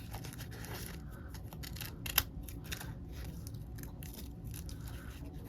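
Scissors cut through packing tape in a quick run of small, crisp snips over a steady low background hum, with one sharper click near the middle.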